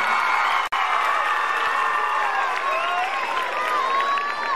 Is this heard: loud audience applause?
yes